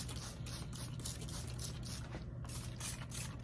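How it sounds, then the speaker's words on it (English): A spray bottle of microbial spray hisses in a rapid series of short bursts over worm compost, each squeeze giving a breathy spritz over a low mechanical hum. "now I take my microbe spray"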